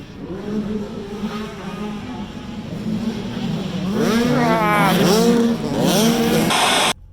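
Motocross race bikes tear away at the start of a race, their engines rising and falling in pitch as several riders rev through the gears, growing louder before the sound cuts off abruptly.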